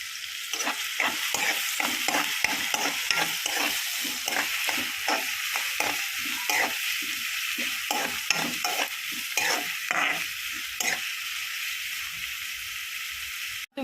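Crushed garlic, green chili and onion fry in a pan with a steady hiss, broken by rapid, rhythmic scraping stirs through most of the clip before the stirring stops.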